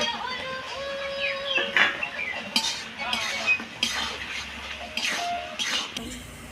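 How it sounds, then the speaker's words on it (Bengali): Fried potatoes tumble into a pan of cooked spices for a shol fish curry, with repeated close metallic clinks and scrapes of a utensil against the pan, plus faint bird chirps in the background. "এবার আমি ভেজে রাখা আলুগুলো দিয়ে দেব।"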